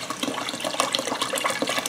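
Water poured into an Amora rice cooker pot, a steady splashing trickle that stays fairly close and even throughout, with no voices over it.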